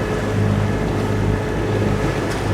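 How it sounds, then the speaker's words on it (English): Sailing catamaran motoring slowly on its single port engine, a steady low diesel drone with harmonic hum under wind buffeting and water wash, continuous and close. "we've got just one engine on, just the port engine on"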